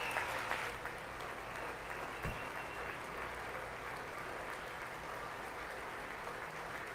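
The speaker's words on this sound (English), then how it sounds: "I wasn't sure if anybody even on this side was going to applaud for that" Sustained applause at the State of the Union fills the chamber, a dense, steady roar of many hands clapping continuously from start to finish, with no break or fade.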